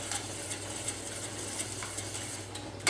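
Alfredo sauce with fresh oregano and thyme is stirred in a pan, a soft steady simmer under light, intermittent scraping of a utensil against the pan.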